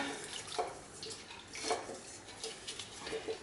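Ordinary table salt is stirred into a pot of water for dyeing ripstop nylon, giving soft swishing and sloshing with faint clinks, repeating in gentle pulses.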